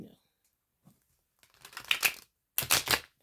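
Tarot cards being shuffled in two quick riffling bursts, crisp and close, after a few faint soft sounds.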